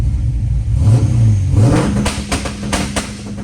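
A loud car engine revs hard and rises in pitch, followed by a series of sharp exhaust pops and crackles.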